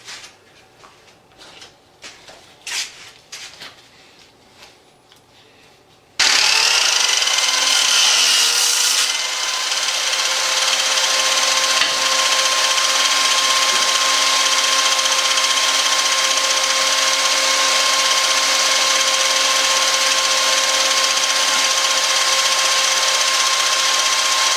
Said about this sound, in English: So now I can cut each one to length, and then for the next length I'll just change my stop block.